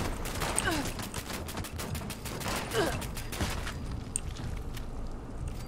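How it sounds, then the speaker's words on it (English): A Gatling gun fires in Fallout 76, bursts of rapid gunfire with mechanical clatter at moderate level, trailing off into quieter shots, with faint voices underneath. "I got a Gatling gun too."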